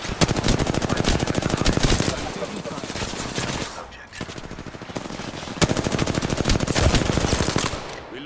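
Gunfire in a first-person shooter video game rattles in long rapid automatic bursts, loud and close, with a short lull midway before the firing resumes, under a faint voice.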